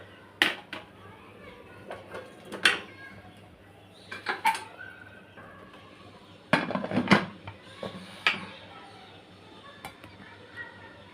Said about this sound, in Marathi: आता आपण झाकण लावून घेणार आहोत कुकरचं